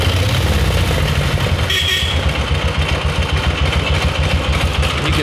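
An opposed-cylinder horizontal Harley motorcycle engine idles nearby with a loud, steady, low chugging pulse that keeps an even rhythm throughout, with no talking.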